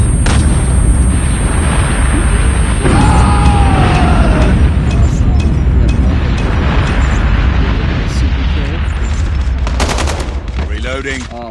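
A dense, loud barrage of gunfire, booms and explosions from Call of Duty Mobile during a nuke, with a voice talking underneath, continuous throughout and fading slightly at the end.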